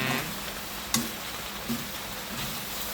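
Spicy stir-fried pork head sizzles in a pot as it is stirred, a constant crackling hiss with a few sharp scrapes and clanks of the utensil, close and moderately loud.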